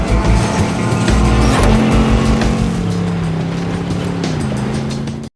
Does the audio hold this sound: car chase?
yes